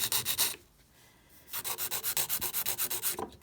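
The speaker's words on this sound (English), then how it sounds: "Filing it straight as best I can with the way this nail keeps moving." Nail file rubbing back and forth across a dip powder nail, a quick rhythmic scratching in close bursts, a pause, then a longer run of even strokes, with no talk.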